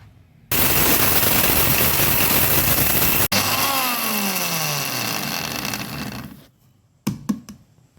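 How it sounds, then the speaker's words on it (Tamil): An electric mixer grinder jar powders dried seeds for a homemade natural hair dye, a loud, steady whirring grind running for several seconds, then winding down with a falling pitch before a few short clatters at the end. "இப்போ இது ஒரு மிக்சி ஜாரில் போட்டு நல்லா பவுட்ரு பண்ணி எடுத்துக்கலாம்"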